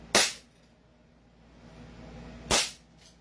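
A KJWorks 2011 Godfather 6.0 airsoft pistol fires two sharp, loud cracks about two and a half seconds apart, close up, with quiet room noise between the shots.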